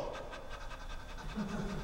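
A person pants quickly and rhythmically, short breathy huffs in a steady run like a dog, close and fairly quiet.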